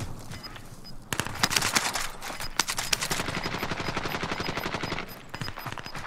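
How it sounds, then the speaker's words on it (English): Gunfire in Warzone: a sustained, rapid automatic burst of close shots in an even stuttering rhythm, starting after a quieter second and running nearly to the end, with faint chatter underneath. "He's firing at me."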